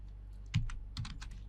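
A few quick keystrokes on a computer keyboard entering a university registration number, a short cluster of clicks close by and alone in a quiet room.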